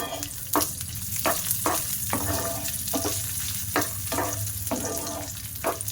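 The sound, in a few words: frying cashew nuts and raisins in ghee in frying pan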